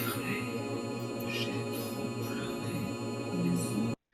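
Dense granularized synth texture opening a song, a busy shimmering wash of fragmented tones and crackles that runs continuously and loud, then stops abruptly near the end.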